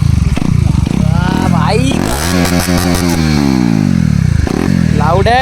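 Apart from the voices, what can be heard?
KTM Duke 250 motorcycle engine running with exhaust removed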